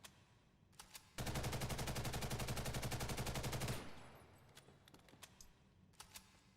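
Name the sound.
M4 rifle automatic fire, Ghost in the Shell: First Assault video game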